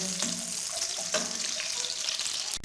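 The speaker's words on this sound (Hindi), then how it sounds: "अभी इसमें हम प्याज डालेंगे और इनको फ्राई कर लेंगे" Onions frying in ghee for chicken jalfrezi, a constant close hiss and crackle with occasional soft stirring knocks, no talking.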